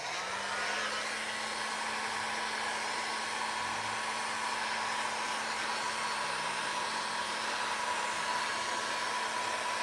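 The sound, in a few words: heat gun blowing hot air to dry paint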